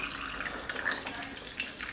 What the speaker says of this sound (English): now let's pour out that beautiful drink.